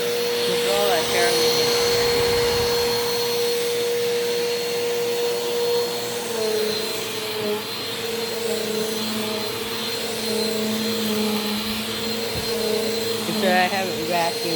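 A Bissell PowerForce Compact Turbo upright vacuum runs over a dirty carpet indoors, a loud, steady whine with a droning motor tone and shifting rushes as it is pushed back and forth; a person talks over it.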